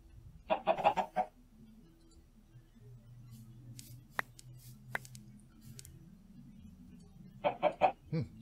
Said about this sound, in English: I will look out later exactly how to go about breeding the exact chickens I want